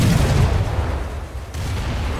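Naval gun fire from a Tribal-class destroyer during a War Thunder sea battle, a deep low boom at the start that rolls off into a sustained rumbling tail, loud and close with no talking.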